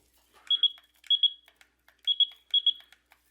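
A small electrical tester checking incandescent Christmas light strands gives four quick pairs of high-pitched beeps, close and clear, with faint clicks between them.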